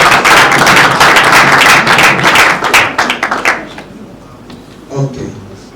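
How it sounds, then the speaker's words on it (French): Audience applause at a gathering of private communicators for a head of state, a dense burst of many hands clapping loudly for about three seconds before thinning out and fading. "Est-ce qu'on peut vous applaudir?"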